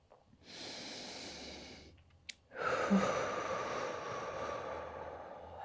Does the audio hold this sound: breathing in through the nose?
yes